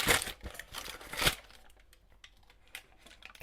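Baking parchment crumpled by hand nearby, loud crinkling bursts at first, then softer scattered crackles as the ball of paper settles.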